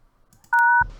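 Touch-tone dialing in the adventure game Thimbleweed Park: a single loud, steady dual-pitched DTMF beep lasting about a third of a second, preceded by faint soft sounds and followed by a low rumbling noise.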